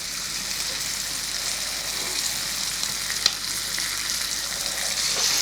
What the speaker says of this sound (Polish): Teraz na rozgrzany olej lub oliwę dajemy naszego kurczaka.